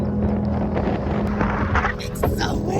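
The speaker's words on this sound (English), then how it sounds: "It's so windy!" Wind buffets the microphone with low rumbling gusts at a roadside stop in Scotland, loud and close, while a voice speaks briefly underneath.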